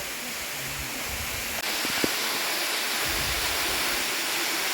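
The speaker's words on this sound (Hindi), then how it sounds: "ये इस झरने का एक और एंगल" A hidden waterfall in the hills roars in a steady, dense rush of water, close and constant throughout, with a couple of faint clicks partway through.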